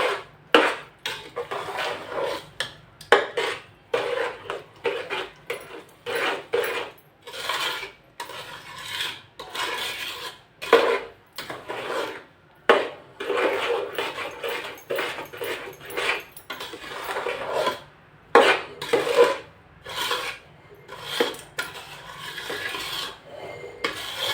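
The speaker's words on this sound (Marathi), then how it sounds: "हा व्यवस्थित आपण आता मिक्स करून घेत आहोत" Rava ladoo mixture of semolina being stirred and mixed in a pot, with repeated scraping, rasping strokes of a spoon against the pot in an uneven rhythm, close and fairly loud with no talking.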